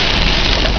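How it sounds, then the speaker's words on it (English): In a parking lot during a violent storm, heavy rain mixed with wind-blown debris of leaves and tree bits pounds down as a loud, dense, unbroken roar, with no talking. "Oh no, that's actually rain and debris."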